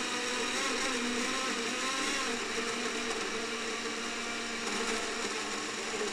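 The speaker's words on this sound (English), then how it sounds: "we're going to just get our blender ready here, and I'm going to blend this up" A blender whirs steadily at full speed while mixing a green mango smoothie, a constant loud motor drone with no pauses for the whole stretch.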